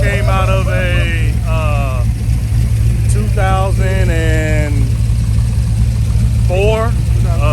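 A bored-out 6.2-liter V8 from a 2004 HD truck, fitted with a stage 3 cam, fly-cut pistons and MagnaFlow exhaust, idles with a deep steady rumble at a car show while people talk loudly over it nearby.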